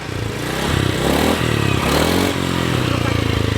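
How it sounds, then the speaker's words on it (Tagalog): A motorcycle engine runs close by with a steady revving drone and some rattling or clattering from underneath, continuous for a few seconds, with voices faintly mixed in. "Sa motor namin may tumutunog baba, Jay."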